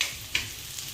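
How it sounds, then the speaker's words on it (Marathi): Steady sizzling of onions frying in oil, with a couple of brief scraping stirs; no voices. "कांदा पण मस्त फ्राय होतो तेलात।"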